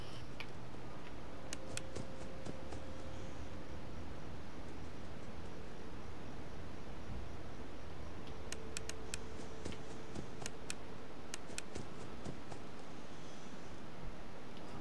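Ticking from a clock in the Five Nights at Freddy's 4 horror game comes in clusters of crisp, evenly spaced clicks over a constant hissing ambience, with quieter stretches between bursts and no speech.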